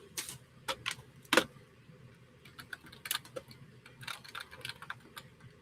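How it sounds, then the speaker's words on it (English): Keys on a computer keyboard click in quick, irregular bursts of taps, faint and close, with short pauses between runs. "Sorry, keyboard."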